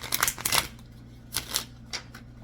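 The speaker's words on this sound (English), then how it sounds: "Shuffle just a little bit more here." Tarot cards are shuffled by hand in short, quiet riffling bursts with brief pauses between them, close by in a still room.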